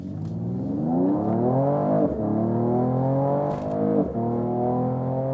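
A 2022 Mercedes CLS 53 AMG accelerating hard from standstill to 100 km/h, heard from inside the cabin as a smooth rising engine drone with two brief gear-change dips, loud and steady with no talk.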